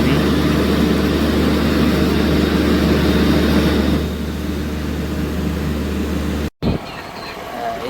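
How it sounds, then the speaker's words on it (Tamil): Engine block at an electricity power station that supplies the surrounding region, giving a loud, steady low drone with a broad rumble throughout and a brief dropout near the end. "இதான் வந்து இந்த பிரதேசத்துக்குரிய மின்சாரத்தை வழங்குகிற மின்சார நிலையத்தில் இன்ஜின் தொகுதி."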